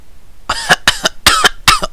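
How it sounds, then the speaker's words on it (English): A person coughs four times in quick succession, harsh and close, with brief gaps between the fits. "I started coughing uncontrollably"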